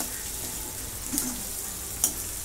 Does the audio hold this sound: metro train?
no